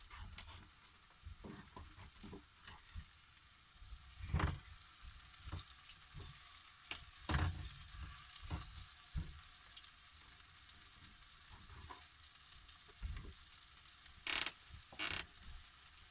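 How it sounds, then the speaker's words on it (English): Mushrooms fry for vegetarian fried rice with a soft, continuous sizzle, broken up by scattered scraping and clanking of a utensil stirring in the pan. "fry the mushroom first."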